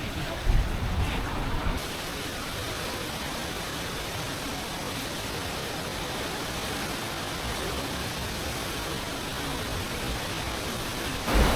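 A fast-flowing mountain river right beside a narrow path near a remote Himalayan monastery, a loud steady broadband rush of water that stays constant throughout, no voices.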